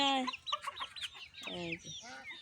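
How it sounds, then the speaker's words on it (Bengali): Backyard chickens cluck in quick, close bursts, several birds overlapping in a busy, chattering run of calls. "আমার মুরগিটি দেখায়"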